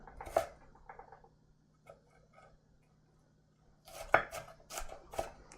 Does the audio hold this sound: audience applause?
no